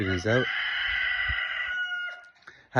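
A rooster crows loudly and close by in one long, drawn-out call, with a short cluck before it and another call beginning at the end.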